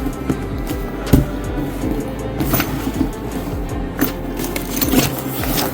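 A Wandrd Rogue Sling 9-liter camera bag is unboxed at close range, with scattered handling clicks, scrapes and rustles of material and packaging in an irregular pattern.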